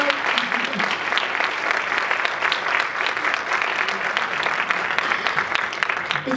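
An audience applauds Antonia Cano at a women's council interassociation event in Fuenlabrada, a steady, dense round of clapping that holds evenly throughout at moderate volume.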